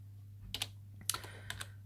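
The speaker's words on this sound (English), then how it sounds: "we have to type the site where you think you will find the information" Soft, quick keystrokes on a computer keyboard as a URL is typed, a handful of light clicks in two brief clusters over a low steady hum, with no talking.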